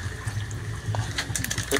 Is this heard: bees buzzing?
no